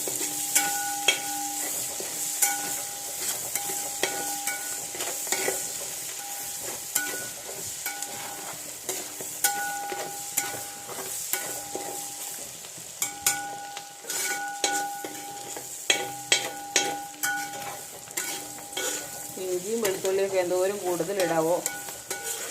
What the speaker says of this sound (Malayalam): നല്ലപോലെ ഇളക്കി അതിൻ്റെ പച്ച മണം മാത്രം അങ്ങ് മാറിയാൽ മതി